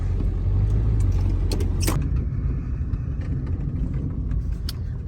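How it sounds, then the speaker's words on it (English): Pickup truck driving while plowing snow, a continuous heavy low engine rumble with scraping and creaking mechanical noise, steady and close throughout. "we're just gonna plow all the way back there so I can get in with my pickup and turn around over here"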